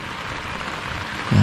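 Rain falling during wild tilapia fishing from a raft platform, a steady dense hiss of drops on surfaces throughout, with a sudden low rumble swelling at the very end.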